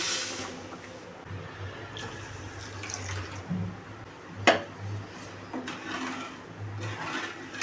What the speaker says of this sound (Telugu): 2 కప్స్ వాటర్ యాడ్ చేయాలి.